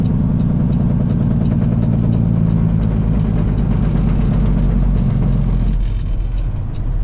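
A truck pulling a trailer over 75 feet long, heard from inside the cab on the I-275 East ramp in Cincinnati: a loud, steady low engine drone and road rumble that holds throughout, dipping slightly near the end.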